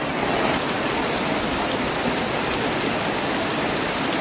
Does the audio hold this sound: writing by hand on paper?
no